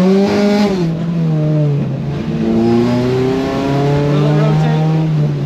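A CRX car engine hums and revs on a wet day, its pitch rising and dipping as the car pulls away and drives, steady and fairly close.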